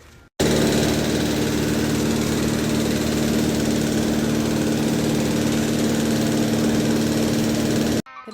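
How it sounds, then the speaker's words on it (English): A small lawn mower engine runs steadily and loudly close by, a constant droning rumble that starts abruptly and cuts off near the end. "got an old lawnmower laying around?"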